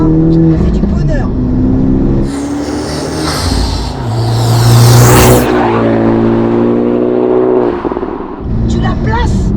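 Honda Civic Type R FK2 with a VTEC turbo engine revs and pulls hard through the gears, loud and close, while people talk over it.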